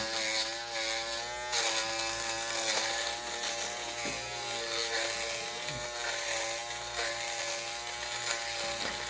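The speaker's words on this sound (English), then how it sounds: "I just do a dry shave right now." A ROSS dual foil electric shaver buzzes steadily and close up while dry shaving a medium-length mustache, its motor tone wavering slightly as the head moves across the hair, with no talking.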